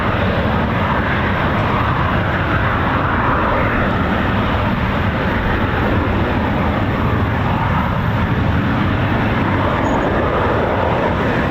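A Eurofighter Typhoon FGR4 jet roars loudly and continuously at RAF Coningsby, a QRA station, its engine noise filling the air as a steady, powerful rumble throughout.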